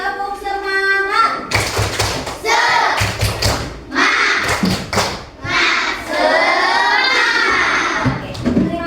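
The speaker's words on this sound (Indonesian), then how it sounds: "Coba tepuk semangat." A class of children performs a rhythmic spirit clap, loud patterned clapping and thumps mixed with their chanting voices, filling the room in quick repeated bursts.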